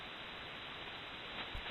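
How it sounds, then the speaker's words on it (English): A fine, even white hiss of ham radio receiver static, steady and quiet, with a slight bump near the end. "just a fine white hiss"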